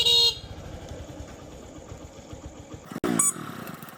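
A vehicle horn gives two short loud honks, one at the start and one near the end, over a low rumbling idling engine close by.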